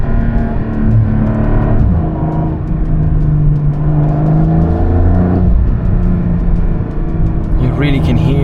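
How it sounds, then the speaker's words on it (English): A Porsche 992.2 Turbo S with a hybrid system and turbochargers accelerates, its engine note rising and falling through repeated surges with a whooshing turbo whir, while a person talks over it. "You really can hear the hybrid and the turbos, really cool."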